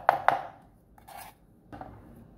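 Knife chopping ginger into thin strips on a cutting board while preparing soy-sauce steamed carp: two quick, sharp, close chops, then a few softer cuts after short pauses, with no talking.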